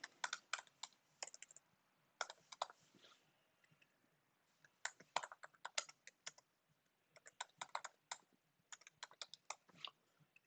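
Clattering computer keyboard under steady typing, quick irregular runs of sharp clicks with brief pauses, close and clear with no voice.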